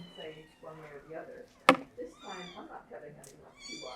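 Kittens mew in short, high, repeated calls over a person talking nearby, with a sharp click or knock partway through.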